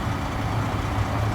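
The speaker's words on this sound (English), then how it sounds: "cars on the highway traveling" Highway traffic rolls past, cars and trucks making a steady low engine drone and tyre roar, close and fairly loud, with no voices.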